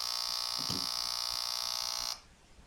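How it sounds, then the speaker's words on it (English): A STA-SAF GSD-100 gas and smoke alarm sounds a loud, steady, piercing tone with no talk over it, then stops abruptly after about two seconds. "That is a STA-SAF GSD-100 gas and smoke alarm overview and demo."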